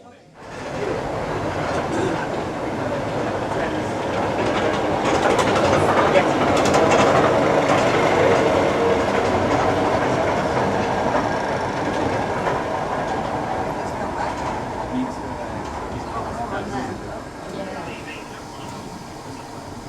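The Snowdon Mountain Railway steam train climbs from Llanberis up Mount Snowdon with a loud, continuous rumble and rattle of carriages on track, heard from on board, with voices blended into the noise throughout.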